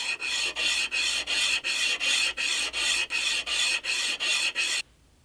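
A Stanley 101 plane sole is rubbed back and forth on 120 grit sandpaper in about eleven even, rhythmic rasping strokes, close and steady, then stops.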